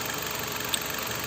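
A car engine idling steadily after a repair by a mobile mechanic, a smooth, even hum with no sharp knocks, close and continuous for a short moment.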